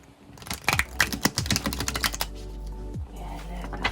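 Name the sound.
riffle shuffling a Dame Darcy Mermaid tarot deck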